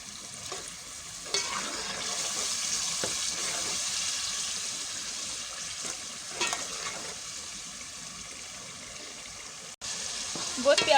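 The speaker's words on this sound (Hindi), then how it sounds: "अब इस मसाले को हम अच्छे से भून लेंगे।" Masala with garam masala powder fries in a pan for Punjabi kadhi pakora, a steady close sizzle broken by stirring scrapes and a few splashes.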